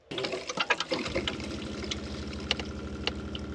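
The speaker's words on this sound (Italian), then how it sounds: "prova un po' ad aprire l'acqua calda" Hot water runs from a tap after a pump is reconnected during a plumbing repair. A few knocks and sputters give way to a steady, close rushing flow, with no talking.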